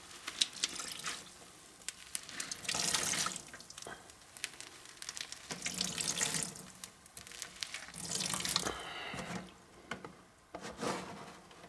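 Tap water splashes into a kitchen sink in irregular bursts, the flow surging and easing with sharp drips and clatters in between, close and fairly quiet, no voices.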